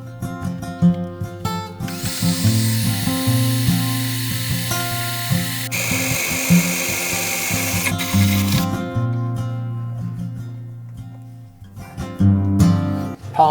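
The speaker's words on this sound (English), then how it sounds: "that's going to allow me to drill a hole." A power drill bores a hole while wiring is installed in a Ford Ranger ute tub canopy, its motor whining in long steady bursts that stop and restart, with metallic clatter between runs.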